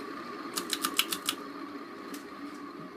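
A 1990 Heritage Spector 36-inch ceiling fan with noisy bearings coasts down after being switched off, giving a quick run of light rapid clicks followed by a soft steady motor hum, close and quiet.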